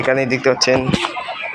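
A reddish hen clucks close by in a few short bursts while a person talks over it.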